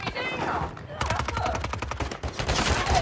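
Rapid bursts of video game gunfire in a Call of Duty Rebirth Island match, the player taking hits from behind; dense crackling shots layered with impact sounds and a voice talking over them.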